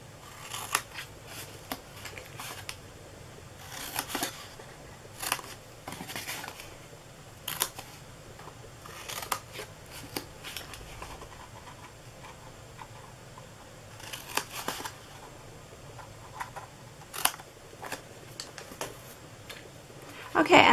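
Scissors snipping out the four corners of a scored paper box for mini Bundt cakes, a run of short crisp cuts at an irregular rhythm, close and moderately quiet.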